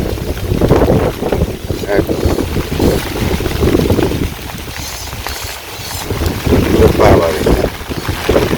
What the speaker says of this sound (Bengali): বাতাস ছাড়ছে প্রচুর